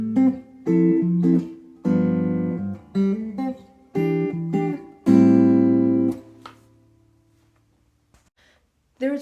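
Jazz guitar arrangement of a song, playing a short pickup phrase of plucked chords and single notes at moderate volume, each group ringing briefly before the last chord fades into near silence.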